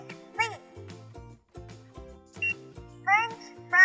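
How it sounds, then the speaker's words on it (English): Toy cash register for kids in game mode, sending out bright electronic beeps and short tonal chimes as products are scanned, with a recorded voice speaking between the tones. "In game mode, the cash register tells the baby which products to buy."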